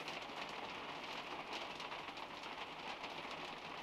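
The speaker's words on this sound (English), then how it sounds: "Can you hear me over the rain?" Steady rainfall outdoors, a faint, even hiss of drops on surfaces that continues without a break, with no voices over it.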